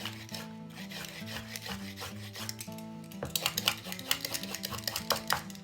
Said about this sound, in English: I feel like I need to peel the carrots.